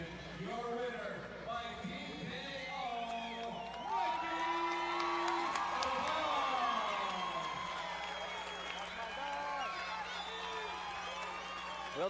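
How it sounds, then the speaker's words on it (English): Boxing fans at a hometown fight night in Las Cruces, New Mexico, cheer and whoop in a crowded hall, their noise running under a commentator's continuous talk, swelling louder around the middle. "he's brought a lot of fans here. You can hear him cheering Tovar"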